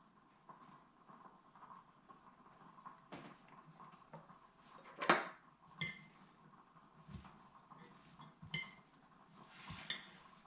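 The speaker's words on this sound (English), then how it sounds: "we just mix them up, mix up the salsa" Fish taco salsa is mixed with squeezed lime juice, heard as faint, sparse clinks and scrapes of a utensil against a bowl over a quiet background hum, with a few louder knocks.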